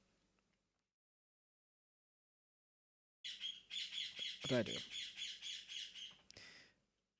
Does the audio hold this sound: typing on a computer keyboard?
no